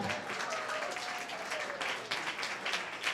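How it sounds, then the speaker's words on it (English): Audience applause at Burlington Idol 2019, a local singing competition, honouring the other performers: dense, steady clapping from a crowd, fairly loud and sustained throughout, with a faint voice briefly audible over it. "let's give a round of applause for all the other talent tonight"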